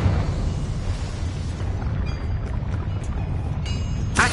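Confringo blasting spell from a Harry Potter game, a rumbling, boomy blast with a long low roar and scattered crackling pops toward the end, loud and close.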